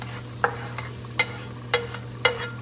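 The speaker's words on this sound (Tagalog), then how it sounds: "Ginisa lang ni Che yung bawang sibuyas." Garlic and onion sautéing in a pan, four quick scraping strokes of a spatula at an even pace over a low hiss and hum, close by with no voices.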